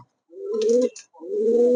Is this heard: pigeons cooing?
yes